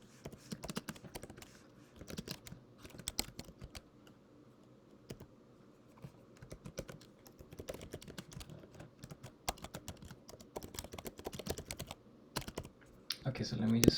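Steady tapping on a computer keyboard as a Python query is typed, irregular bursts of soft clicks at close range, with pauses between runs of keystrokes and no talk over it.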